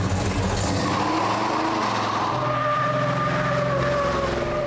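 Loud V8 engine of the 18-foot, 375-horsepower General Lee muscle car, revving and roaring steadily with rising pitch and a touch of tire squeal, close and continuous with no talk.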